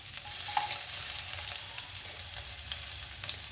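Mustard seeds spluttering in hot oil, a faint continuous sizzle scattered with soft crackles and pops, heard alone.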